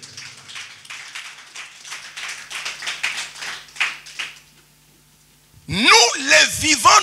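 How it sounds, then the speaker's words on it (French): A church congregation bursts into loud clapping and cheering acclaiming the Lord, beginning abruptly after several seconds of a preacher's speech and filling the last second and a half. "Est-ce qu'on peut acclamer le Seigneur?"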